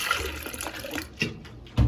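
Clean drinking water is poured for homemade aguas frescas, giving a short, soft splash and trickle of liquid that ends in a brief low thump.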